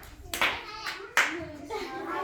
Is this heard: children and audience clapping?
yes